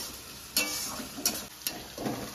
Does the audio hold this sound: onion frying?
yes